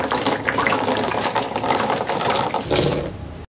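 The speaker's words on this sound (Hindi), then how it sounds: "इसको अगर हम उल्टा कर दें तो पूरा पानी बाहर आ जाता है।" Water gushing out of an upturned plastic bottle, a loud, steady, close rush and splash lasting several seconds before it stops abruptly.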